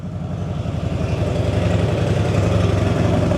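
A CFMoto ZFORCE 950 side-by-side fitted with a new GGB exhaust idles steadily, a deep, evenly pulsing engine note heard from behind the vehicle, loud and continuous without voices.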